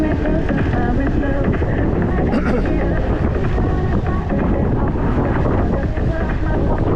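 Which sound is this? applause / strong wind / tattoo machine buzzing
strong wind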